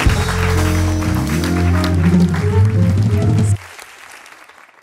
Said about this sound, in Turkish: Alkışlayalım Birce'yi.